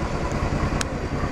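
A Yamaha MT-15 BS-VI motorcycle engine running steadily after starting, a close, constant mid-pitched rumble with one brief sharp click partway through, no talking.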